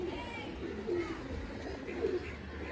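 Several pigeons coo in low, rolling bursts near the listener, a faint background hum underneath and occasional light chirps from other birds.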